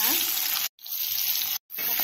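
Onions fry in hot oil in a wok, a steady close sizzling hiss broken twice by brief silences.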